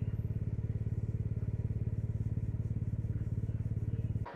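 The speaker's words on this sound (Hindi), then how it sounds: "तो बाइक वार्म अप हो चुकी है और कुछ ज़्यादा धुमा दे रही थी अभी, क्लासिक।" A Royal Enfield Classic 350 single-cylinder motorcycle idles while warming up on a cold winter ride, a steady close thumping beat that runs evenly before cutting off abruptly near the end.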